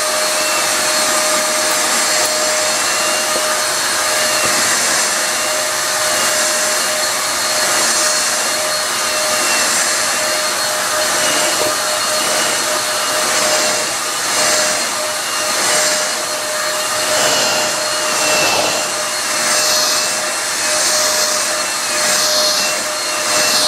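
A Hyundai VC008-1 cyclonic canister vacuum cleaner runs steadily through a pick-up agitation test, its loud continuous whine holding the whole time with small fluctuations as debris is drawn in, no talking.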